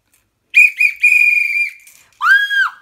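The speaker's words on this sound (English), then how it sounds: "I have my whistle." A whistle blown at a high school graduation gives four loud, close, shrill blasts: two short, one long held tone, then a final blast after a brief gap, with no talking.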